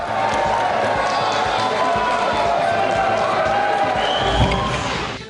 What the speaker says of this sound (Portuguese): E Paulo Maluf ganhou o documento sob vaias.